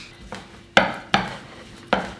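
Dough for homemade naan set into a hot cast-iron pan, heard as a few sharp, close metallic knocks and clatters spaced irregularly over quiet background.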